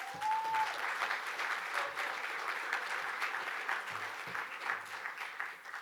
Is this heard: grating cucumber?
no